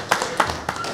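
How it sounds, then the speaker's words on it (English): Applause at a city council meeting honoring a state championship, heard as a short burst of claps in a room, fairly close. "Round of applause."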